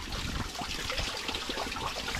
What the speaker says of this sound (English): the spring is still running even in the dead of winter